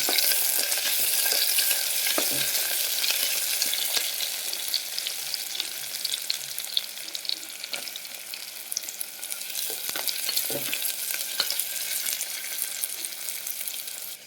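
Onions and green chillies fry in a pan with cashews, cloves and cinnamon, giving a steady close sizzle throughout with occasional stirring clicks and scrapes, no voices.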